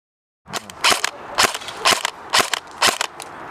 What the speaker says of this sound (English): it's powered by a G&P M120 motor, which gives a fair rate of fire, which I'll just give you a little demonstration here.